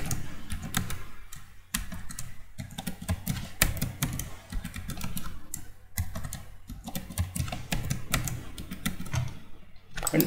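Someone types a password on a computer keyboard: close, steady clicking keystrokes in quick irregular bursts, with brief pauses between runs.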